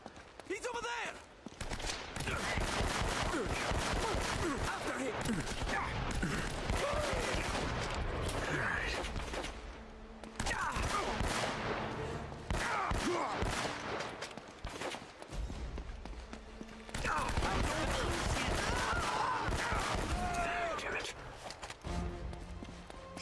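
Rapid bursts of gameplay gunfire in Uncharted: Drake's Fortune come in three dense stretches of loud, repeated shots with brief lulls between them, and voices talk over the firefight.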